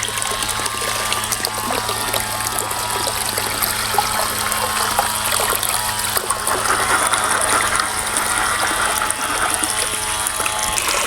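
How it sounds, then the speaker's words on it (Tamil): Turkey berries (sundakai) are rinsed and swirled in water, a steady close trickling and splashing with faint clicking handling, continuous throughout without talk. "சுண்டைக்காவில் வந்து கொஞ்சம் தூசி இதெல்லாம் இருக்கும் அதெல்லாம் நம்ம அலசிக்குவோம் தண்ணியில்"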